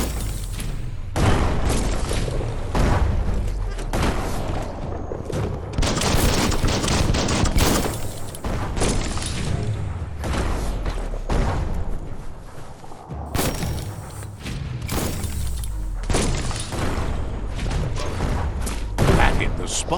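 Bombs from a bomb lobber enemy exploding in Biomutant, a steady barrage of loud booms, thumps and mechanical clatter repeating throughout, close and heavy.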